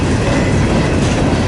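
CSX freight train cars roll past close by at trackside on the Fort Wayne Line, a loud, continuous rumble with rhythmic wheel clatter and no voices.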